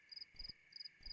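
Crickets chirping outdoors at night in a quiet, faint scene: repeated short high trills in steady pulses, about four bursts, over a soft continuous insect hum.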